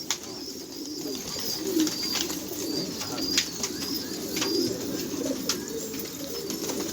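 Several pigeons coo softly and repeatedly at close range among rooftop birds, with faint rustling, occasional flapping and light background noise.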